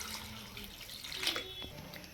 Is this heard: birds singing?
no